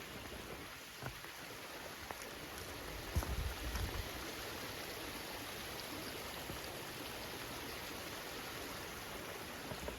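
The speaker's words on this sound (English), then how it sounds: "Oh yeah, nice little waterfall" A small waterfall beside a hiking trail in West Road Conservation Area, Hampstead, New Hampshire, gives a steady, dense rushing wash of water that stays even throughout, with a couple of faint knocks and no voices.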